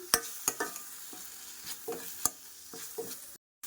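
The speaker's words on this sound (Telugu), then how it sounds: "కరివేపాకు కూడా వేసేసుకుందాం." Curry leaves fry in hot oil for a kaju makhana curry, a quiet sizzle punctuated by several sharp spoon taps and scrapes against the pan, close by, ending in a brief cut to silence.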